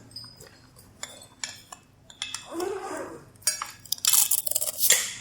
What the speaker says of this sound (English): Get a nice little crispy potato. Little crunch.